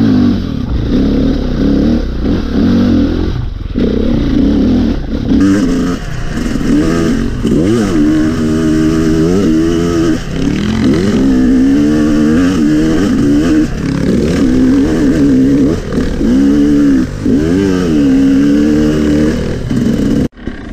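A Sherco 300 SE Factory trial motorcycle engine idles and revs up and down repeatedly, a close, loud, buzzing two-stroke note rising and falling in a steady throttle rhythm.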